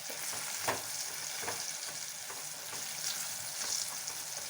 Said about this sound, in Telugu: ఇప్పుడు ఇందులోనే కారం 1 స్పూన్, వేసి బాగా కలపాలి.